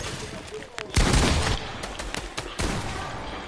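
Bursts of video game gunfire, a loud close volley cracking out in rapid succession, then a second burst, under faint background noise and game sounds.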